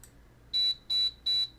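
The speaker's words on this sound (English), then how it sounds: "Alarm sounded from the terminal" Alarm from a terminal in the video game Ever 17, three loud, evenly spaced electronic beeps after a short quiet pause, each about a quarter second long, with nothing else heard.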